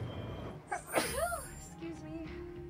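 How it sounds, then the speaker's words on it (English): One sharp, close sneeze bursts out from a streamer playing Final Fantasy VII Rebirth, then trails off into quiet breathing with faint game sound behind it. "I gotta sneeze."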